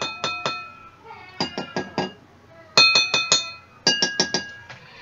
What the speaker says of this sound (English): Glass with less water creates higher tone.